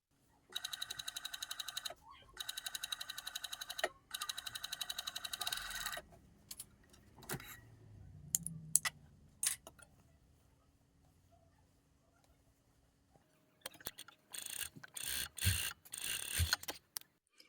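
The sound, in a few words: cover stitch sewing machine sewing a dress neckline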